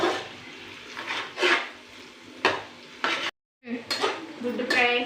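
Egg frying in a pan for street-style fried rice, stirred and broken up: bursts of spluttering sizzle and spatula scrapes come in uneven waves, with a short complete dropout near the middle before the close, loud sizzling resumes.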